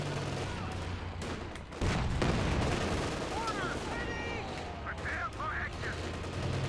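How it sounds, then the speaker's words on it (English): Combat in Company of Heroes 2 as a King Tiger tank and infantry open fire: a dense, continuous rattle of machine-gun and rifle shots, a heavy boom near the middle, and whistling, shrieking effects mixed over a rumbling battlefield. "King Tiger as well opening fire."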